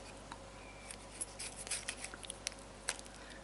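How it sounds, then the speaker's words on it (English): A knife slices fresh tomatoes for a feta tomato pizza, producing soft, close, irregular cutting scrapes and taps over a low steady background hum. "Now I'm going to cut up the tomatoes"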